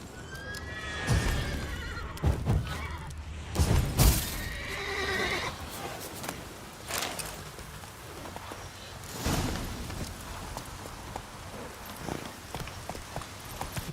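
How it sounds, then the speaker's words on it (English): A horse whinnies and its hooves clip-clop in The Witcher 3, the neighs loud early on, then steady hoofbeats continuing at moderate distance with no speech. "Det är horsey. Det är horsey,"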